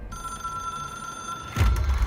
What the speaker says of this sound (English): It is a phone. It's an object of power.